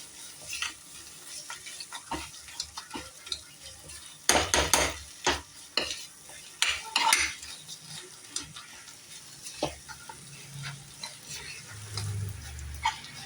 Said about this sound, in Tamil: நல்லா சிம்மில் வச்சு நல்லா வதக்கலாம்.